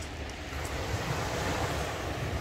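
Black Sea waves on a pebble beach at Adler, Sochi, in late September wash in a steady, broad rush with wind noise over the microphone, continuous and fairly soft.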